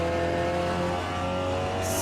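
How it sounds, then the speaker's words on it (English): Peugeot 308 RCZ racing cup car accelerating with turbo spooling, a dense continuous engine drone with steady harmonic tones, loud and close throughout. "Right, we're going to get it into gear. Turbo spooling, off we go."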